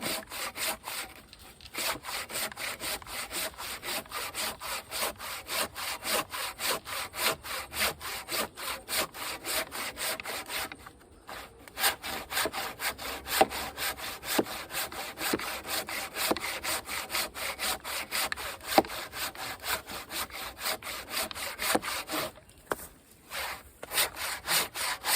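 A manual hand saw cuts through wood in steady back-and-forth strokes, a continuous rasping close to the microphone with only brief pauses between stroke runs.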